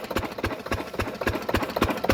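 Diesel engine driving a shallow tubewell borewell pump that irrigates a wheat field, a close, loud, steady rhythmic thumping chug with a knocking beat.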